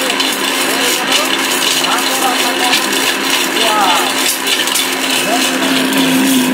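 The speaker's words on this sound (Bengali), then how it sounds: "অলরেডি ব্লেন্ডারের মধ্যে দেখেন আমার এটা কিন্তু প্রায় কমপ্লিটের দিকে।" An electric blender grinds spices toward a dry powder in a home kitchen, a steady loud whirring drone that runs without pause from start to finish.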